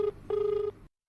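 A telephone rings for an incoming call, giving two electronic rings: a short burst, a brief gap, then a longer steady tone that cuts off into silence.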